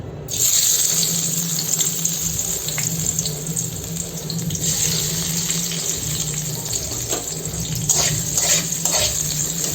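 Onions frying in three spoons of hot oil in a pan, a steady close sizzle with faint stirring clicks and scrapes throughout.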